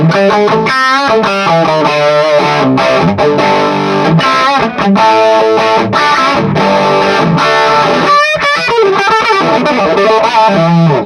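Electric guitar played through a Supro 24 clone amp with an overdrive adding heavy distortion, loud chords and riffs continuing throughout with short pauses, no talking.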